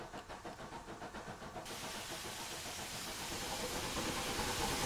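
Clan Line Merchant Navy steam locomotive in Train Simulator 2020 blowing off steam, a loud steady broadband hiss that builds and holds after a rhythmic chuffing start.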